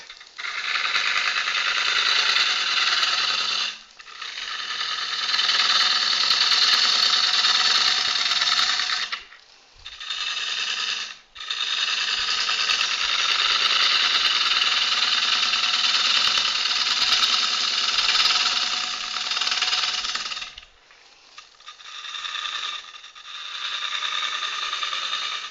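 An olive wood natural edge bowl turns on a wood lathe as a gouge cuts it, giving a steady, loud whirring hiss with brief pauses and changes in tone as the cut shifts.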